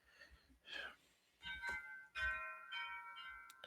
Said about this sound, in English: What are those chimes going off in your house? Oh, those are wind chimes.